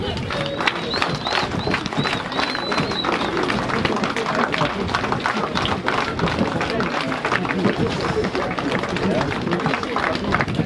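Schoolchildren in Njombe, Tanzania clap their hands together as a group: a dense, continuous patter of many claps that holds steady throughout, with voices mixed in underneath.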